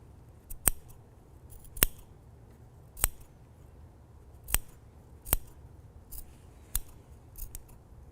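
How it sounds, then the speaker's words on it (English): Sharp scissors snip into the fabric seam allowance of a sewn spiderweb collar, about seven or eight crisp, close cuts spaced a second or so apart over quiet room tone. "you're going to clip right up to where that seam is"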